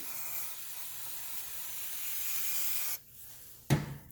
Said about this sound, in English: spray it down with brake clean